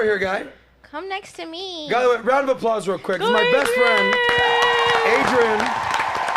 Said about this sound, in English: Round of applause real quick.